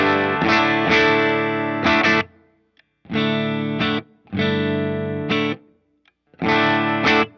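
Electric guitar chords played through a direct amp modeler with heavy reverb, several strummed phrases separated by short pauses, loud and upfront with no talking.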